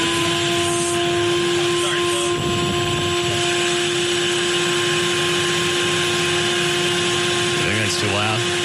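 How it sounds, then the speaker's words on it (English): A vacuum cleaner runs loudly and steadily throughout with a constant tonal whine, while voices talk faintly underneath in a radio show studio. "Turn on the vacuum for a second."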